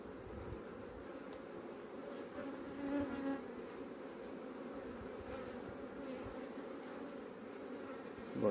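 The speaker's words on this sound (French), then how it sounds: "Bon, il n'y a pas beaucoup d'abeilles dessus, mais il y a plein d'œufs." Honeybees buzzing over a brood frame lifted from a hive, a steady low drone close by that swells briefly partway through, with no talking.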